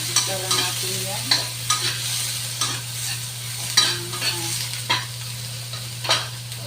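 Onions and tomatoes sautéed in a pan: a steady sizzle broken by repeated spatula scrapes and stirs at an uneven rhythm, close and clear, with a constant low hum beneath.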